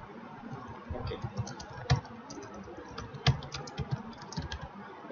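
Keys clatter on a computer keyboard in irregular bursts of close, crisp clicks, with a few sharper, louder keystrokes standing out over a quiet room hiss. No one speaks.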